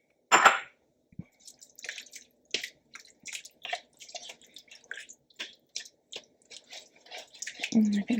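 Homemade bone broth poured into a pot of Zuppa Toscana gnocchi soup, a sharp clink followed by soft scattered splashes and trickles, close and fairly quiet, with a louder pour at the end.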